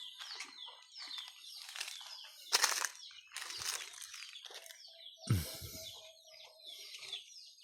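Chickens clucking and calling inside a coop, a series of close bursts of clucks and squawks with short pauses between, including one sharp louder cry.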